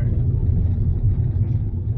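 A car drives through rush-hour traffic in Kuwait, heard from inside as a steady, loud low rumble of engine and road noise with no voices.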